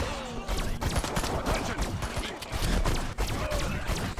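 Rapid gunfire fills the Destroy All Humans remake video game in a dense, continuous barrage of overlapping shots, with a few brief dips in intensity.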